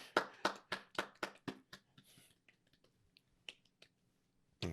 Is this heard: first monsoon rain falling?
no